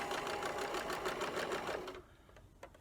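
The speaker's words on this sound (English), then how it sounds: "I'm just sewing with a straight stitch." A sewing machine runs a straight stitch on a fabric face mask with elastic, a close, steady rhythmic whirr of needle strokes that stops, leaving a few faint clicks.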